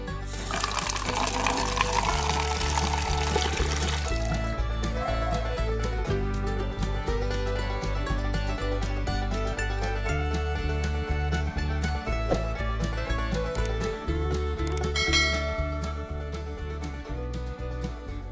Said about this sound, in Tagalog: Pupunuin natin ng tubig to at ilulublob ang AKASO v50x